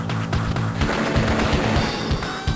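Rapid machine-gun-like bursts of gunfire from a B-copter attacking a missile unit in the Advance Wars video game, dense rattling repeated shots over layered game music, steady and fairly loud throughout.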